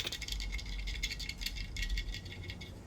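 A worn idler pulley on a 1998–2000 Ford Ranger engine rattles in a steady, busy metallic clatter over a low running rumble, close and continuous with no talk.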